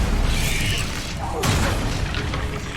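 A Bombarda explosion spell cast in Hogwarts Legacy, a heavy boom with mechanical crunching and debris, preceded by a whooshing swell, fairly loud and close with some game sounds around it.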